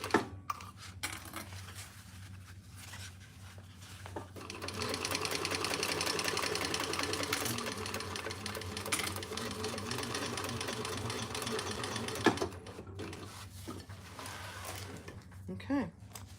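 A sewing machine stitches a fabric divided basket with a steady, rapid whirring run through the middle, starting and stopping around it, close and fairly quiet, with faint voices around it.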